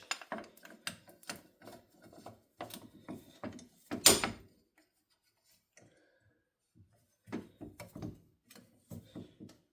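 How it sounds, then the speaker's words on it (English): A clamp slips off a brake part on a Polaris Sportsman ATV. Rapid metallic clicks and ratcheting build to one sharp, loud snap, followed by near silence broken by a few sparse clicks. "That was just the clamp slipping off, nothing breaking."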